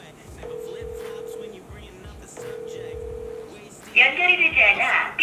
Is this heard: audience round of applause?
no